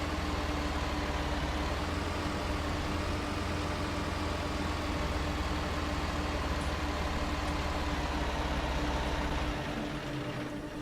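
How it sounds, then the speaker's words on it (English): Steady low tractor engine idle from Farming Simulator 19, a constant mechanical drone holding at an even level for the whole stretch before easing slightly at the end, with no talk over it. "Do I need to leave the tractor on for that to unload?"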